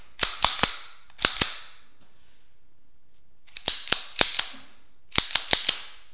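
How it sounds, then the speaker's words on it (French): Sharp metallic clicks of an empty MAB Model R pistol in 7.65 mm (.32 ACP) as the magazine is inserted and the slide is worked, in three close bursts of three or four crisp snaps with short gaps between. "j'insère mon chargeur et la culasse repart en avant"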